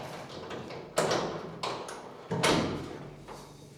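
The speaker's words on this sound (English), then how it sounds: "Let me open this door." Door opened in a garage or workshop during mower deck maintenance, heard as three sharp thuds and clunks spaced about a second apart, close by and moderately loud, with no talking.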